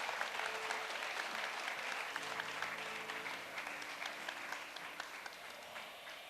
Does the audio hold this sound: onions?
no